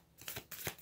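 Tarot and oracle cards being shuffled: a few quick, soft riffling swishes, close and faint, over a very short moment without speech.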